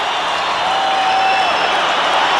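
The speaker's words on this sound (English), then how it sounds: "the crowd loves it" A hockey crowd at Joe Louis Arena in Detroit cheers in a steady, loud roar of massed voices and applause, a continuous wash of distant arena noise without distinct breaks.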